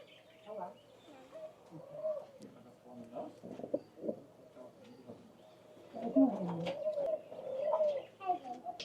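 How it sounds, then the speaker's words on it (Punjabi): White Indian pigeons at a zoo coo in soft, repeated low calls, with a few brief chirps, close by under steady nearby talk from people. "ਇਹ ਆ ਗਏ ਨੇ ਆਪਣੇ ਜੀ ਇੰਡੀਅਨ ਕਬੂਤਰ"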